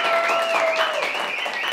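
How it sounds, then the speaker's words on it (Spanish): Studio audience applauding at a comedy show taping, a steady burst of clapping with a warbling tone or music riding over it. "¡Aplauso!"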